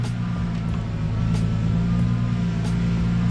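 Lexus IS300 with a sheared reverse gear gives off a steady whining drone from the gearbox under a low engine hum, with faint periodic ticks repeating at regular intervals.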